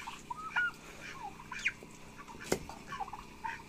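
White turkey and other poultry in summer heat, giving scattered soft gobbles, clucks and chirps at moderate distance, intermittent and fairly quiet over a faint background hum.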